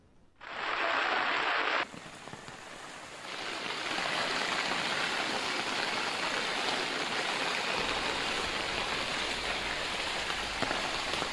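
Flood streams overflowing after torrential rain in Kamareddy district roar as a loud, continuous rushing of water that starts after a brief pause and holds steady, with no voices.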